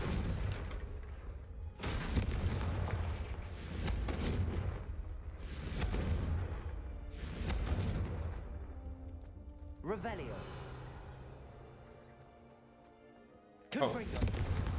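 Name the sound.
Confringo fire blast spell cast in Hogwarts Legacy video game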